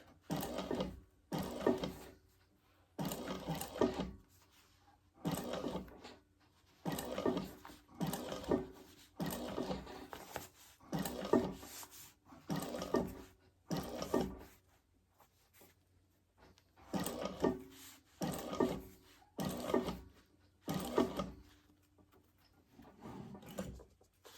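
A sewing machine stitching a laptop bag slowly around a curve: short bursts of mechanical whirring and clattering, each lasting a second or two, separated by brief pauses, close by and moderately quiet.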